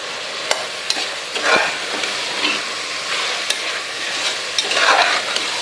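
Small onions and mint sautéing in a pan for biryani while being stirred: a continuous close sizzle broken by scraping strokes and sharp clicks from the spoon, no voices.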